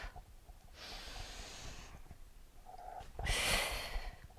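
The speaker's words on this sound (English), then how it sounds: "Exhale." A forceful exhaled breath during a Pilates exercise with toning balls and a yoga block, two breathy rushes of air, the second louder and sharper, close to the microphone with no talking.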